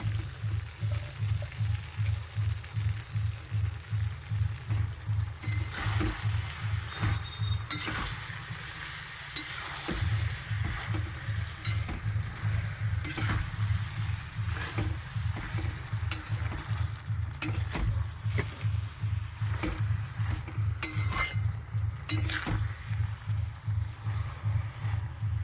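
Chicken with spinach fries in oil in a pan and is stirred, a steady low rhythmic scraping and bubbling that pulses evenly throughout, with occasional sharper clinks.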